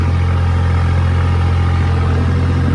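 A 5210 tractor engine runs steadily at 1600 rpm in first medium gear, a loud, constant low diesel drone with a firm rhythmic throb that holds even without any speech.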